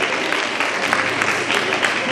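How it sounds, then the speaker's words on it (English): A conference crowd claps together in a dense, loud burst of applause that stays steady and close throughout the short stretch, with no speech over it. "So give yourself a round of applause for coming out."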